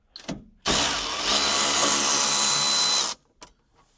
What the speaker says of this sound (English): So what I'll do is I'll get the Torx bit in there first, make sure it doesn't strip.